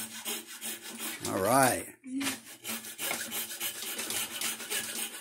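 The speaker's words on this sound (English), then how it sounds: "Start sawing." Repeated rasping strokes of a hand saw cutting wood for a Pinewood Derby car, close and rhythmic, with a person briefly speaking near the start.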